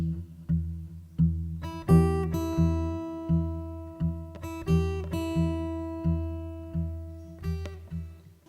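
Acoustic guitar with the thumb's steady bass notes and the fingers' picked notes played together in a fingerstyle pattern, a regular rhythm of plucked notes with some higher chordal strums, clear and close, no talking.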